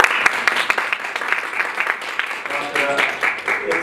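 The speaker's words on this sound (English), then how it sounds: "So a big round of applause for Ishaf" Applause from an audience at a LinkedIn Local gathering in Lahore, a dense wash of clapping that holds steady for a few seconds, with some voices mixed in.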